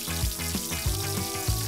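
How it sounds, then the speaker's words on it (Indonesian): Battered banana slices fry in hot oil, giving a steady, close sizzle with bubbling pulses throughout and no talking. "Dicelup ke adonan dan baru deh kita goreng di minyak yang udah panas."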